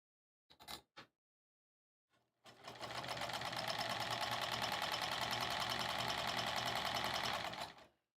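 An embroidery machine stitching a pillow cover runs in a steady rapid mechanical chatter for about five seconds, preceded by a few brief clicks and ending abruptly.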